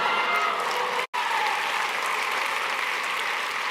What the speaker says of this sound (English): you're not clapping for me that time. You're clapping for you